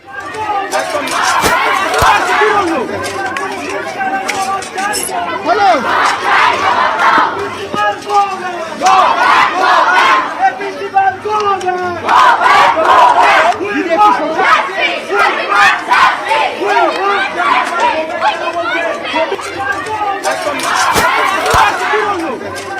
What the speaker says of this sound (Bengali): তখন গো ব্যাক স্লোগান দেখুন